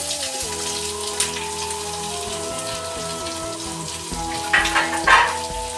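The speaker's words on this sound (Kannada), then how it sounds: "ಇವಾಗ ಒಂದು ಈರುಳ್ಳಿ ಕಟ್ ಮಾಡ್ಕೊಂಡಿರೋದು ಹಾಕೋತಾ ಇದ್ದೀನಿ" Chopped onion hits a wide pan for spicy chilli chicken and fries with a steady close sizzle. A low tonal hum runs underneath, and the sputtering grows louder in two bursts near the end.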